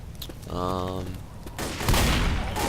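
Shotgun blasts in Left 4 Dead as zombies are shot, with heavy booming reports in the latter half following quieter game sounds and a voice.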